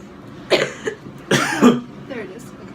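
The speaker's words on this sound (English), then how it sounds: "I'm waiting for a cough because I feel like it's coming." A person coughs twice in quick succession, close and fairly loud, with a faint third cough trailing off near the end; no other sounds intrude.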